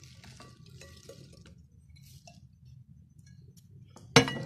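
Chopped fruit for a creamy fruit chaat being tipped into a bowl and stirred with cream: soft, steady scraping and wet stirring, then a sudden sharp clatter of utensil against the bowl at the end.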